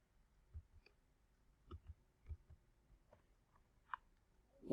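Soft, scattered clicks of a computer keyboard and mouse while a company name is typed into a stock trading game search box, faint and sparse with quiet gaps between presses.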